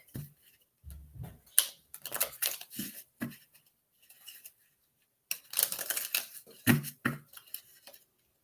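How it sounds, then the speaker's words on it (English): Tarot cards are shuffled in quick bursts of riffling and sliding, close and crisp, with brief pauses between handfuls. "I'm going to shuffle this one real quick."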